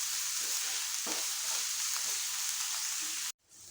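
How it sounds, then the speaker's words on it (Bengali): Onions fry in a pan until reddish for an ivy gourd masala, making a soft, even sizzle with faint stirring taps. The sound cuts off abruptly near the end, with nothing spoken. "পেঁয়াজটাকেও আমি একটুখানি লালচে করে ভাজবো।"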